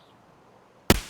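One sharp single-fire gunshot in Escape from Tarkov, loud and close, cracking out abruptly after near silence with a short decaying tail.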